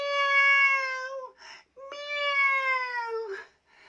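A voice imitates a cat meowing, giving two drawn-out, tonal meows with a short pause between, heard clearly and alone as part of a spoken story.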